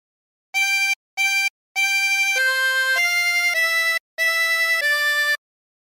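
A 24-hole tremolo harmonica plays a phrase of Hark the Herald Angels Sing, loud and close with a bright, wavering reed tone: two short notes, then a run of longer held notes, each with a brief gap.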